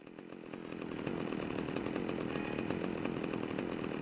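A chainsaw revving steadily in GTA Vice City Nextgen Edition, a loud continuous buzzing drone that swells after the first second and holds, with no talk over it.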